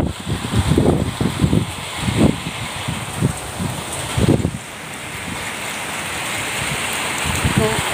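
Rain falling around a house in a village, a continuous hiss of rainfall with a few louder thumps and splashes early on, steady and close throughout.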